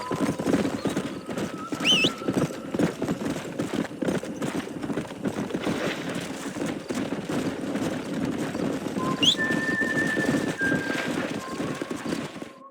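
Horse hooves gallop in a steady rhythm in the video game Red Dead Redemption, with occasional whinnies and bright whistling tones over a constant low rumble.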